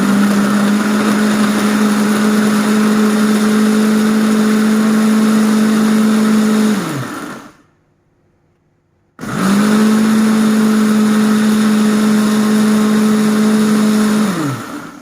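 A kitchen blender whirs loudly, blending a seafood dipping sauce, in two steady high-pitched runs separated by a short silence, each winding down as it stops.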